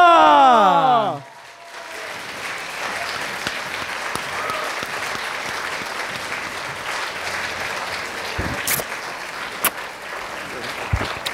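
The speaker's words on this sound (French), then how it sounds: "merci d'accueillir, sous un tonnerre d'applaudissements, Frédéric Lambois" A talent show audience at a Saint-Maurice telethon event breaks into loud, sustained applause for an arriving guest, dense clapping after a brief spoken introduction, with a few sharp louder claps near the end.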